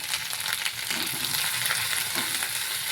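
Chili powder fries in hot oil in a pan while being stirred, giving a loud, continuous close sizzle with scraping stirring strokes throughout.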